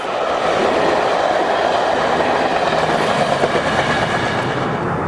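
A pair of locomotives hauls a UK rail charter train on a Crewe to Carlisle tour, a loud, continuous rumble and roar of the passing train with a faint rhythmic clatter of wheels, no voices.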